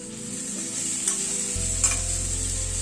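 Potato and papaya curry frying on low flame in a pan, a steady sizzle with a couple of light stirring scrapes, close and continuous with no voices.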